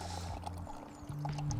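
Beer poured from a can into a glass during home brewing, a faint continuous gurgling pour with small splashes and fizz over a low background hum.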